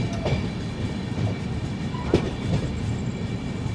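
Kanchankanya Express train running, with a steady rumbling roar and faint clickety-clack of the wheels heard from inside the coach, and one sharper knock midway.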